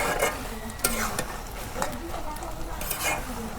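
Banana stem and dried fish frying in a pan in a village kitchen, with a steady sizzle under repeated scrapes and clinks of a spatula stirring against the pan.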